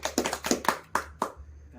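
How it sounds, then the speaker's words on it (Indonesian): A group of women in a community hygiene and stunting-prevention training session claps their hands: a short burst of about half a dozen distinct, uneven claps close by, then quiet. "Tepuk tangan dulu"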